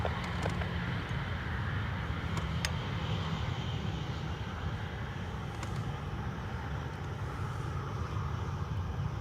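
An airliner takes off from Dublin Airport, a steady broad engine roar with low rumble that holds level throughout, heard from a distance without talk.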